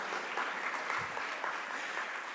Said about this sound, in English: I will not stop you from applauding for the TIFF Industry Conference.